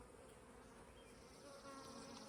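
A dense, steady buzz of many honeybees fills the air, close and continuous, with no voices.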